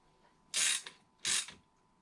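A ratchet wrench tightens a bolt on a 250 KXF motorcycle under restoration, two short, sharp bursts of rapid clicking separated by a brief pause, close and distinct in an otherwise quiet space.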